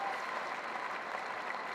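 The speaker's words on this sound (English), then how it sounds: "those who are in their seats are standing up and applauding" Steady applause from a cricket crowd at Edgbaston after Ben Stokes reaches his half century in a Test against the West Indies, a continuous, dense wash of clapping from many spectators with no pauses.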